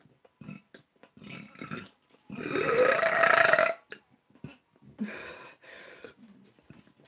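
One long, loud, deep burp rises in pitch and lasts more than a second. Short breathy mouth noises and soft vocal sounds come before and after it, all close up.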